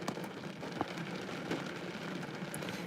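Steady rain falling outdoors in a downpour, a soft continuous hiss with occasional drip ticks, fairly faint and even with no voices.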